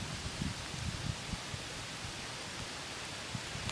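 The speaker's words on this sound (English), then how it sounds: "the wind is really picking up." Strong wind during a June lightning storm in Cambridge City, Indiana, roaring as a steady broadband rush with gusty buffeting and rustling up close, with no voices.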